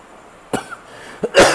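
Three sharp coughs in close succession, the last one the loudest and most forceful, over faint background hiss.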